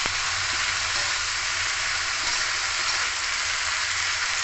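Mixed vegetables with cabbage are fried and stirred in a pan. The result is a steady, close, hissing sizzle that stays even and continuous, with no voices.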